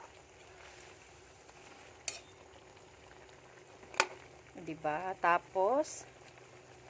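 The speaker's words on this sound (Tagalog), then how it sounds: "ayan, kumukulo na siya" Chicken adobo with bay leaves and whole peppercorns boiling in a pot gives a low, steady bubbling hiss, broken by a couple of sharp utensil clinks and a short stretch of speech near the end.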